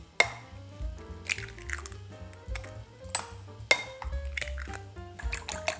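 A utensil beating four eggs in a bowl for Korean steamed egg, heard as a few sharp, scattered clinks against the dish over a steady low musical background.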